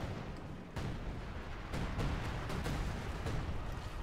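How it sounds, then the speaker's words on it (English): A time-on-target artillery barrage lands in Company of Heroes 2, several dull booming impacts and bursts arriving at irregular intervals over a constant rumbling battle background, moderately loud. "So there'll be some time on target artillery."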